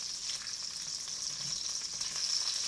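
Hashbrowns fry in a hot pan with an even, steady sizzle, a continuous crackling hiss at moderate volume, without talk or other interruptions.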